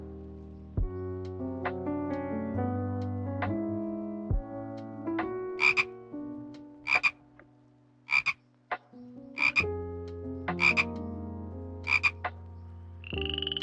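A small, brightly colored, highly toxic frog in the Amazon rainforest croaks in a regular series of sharp, loud calls about once a second, set against a soft sustained musical bed.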